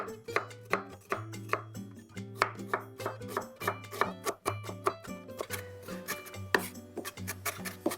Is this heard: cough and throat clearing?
no